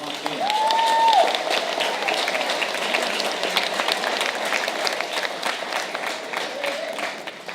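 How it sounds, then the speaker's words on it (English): A crowd at a school band's spring concert claps steadily and fairly loudly for the symphonic band and its directors, with a brief whistle near the start above the sustained applause. "Let's give another round of applause for Mr."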